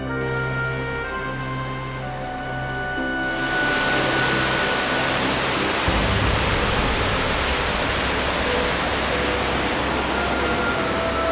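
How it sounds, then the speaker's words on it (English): Loud, continuous roar of the Brandywine Falls waterfall in Canada, swelling after a few seconds into a broad, steady wash of noise, with no speech. "we also met the Brandywine waterfalls"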